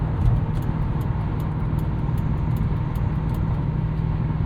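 A 2003 Mercury Marauder V8 sedan cruising in overdrive, heard from inside: a steady low engine drone mixed with road and tire noise, even and continuous with no speech.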